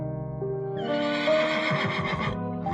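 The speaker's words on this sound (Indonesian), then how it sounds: "Kuda akan mendekati pagar ketika dia lewat." A horse lets out a single loud, quavering whinny that rises and trembles for about two seconds, close and clear with nothing else around it.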